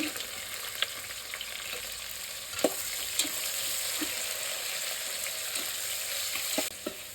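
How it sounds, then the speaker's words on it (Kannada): Sliced onions frying in oil for a biryani, a continuous bright sizzle with occasional soft taps and scrapes of a spoon against the pan. "ಈರುಳ್ಳಿ ಕಂದು ಬಣ್ಣ ಬರೋ ತನಕ ರೋಸ್ಟ್ ಮಾಡ್ಕೊಳ್ಳೋಣ"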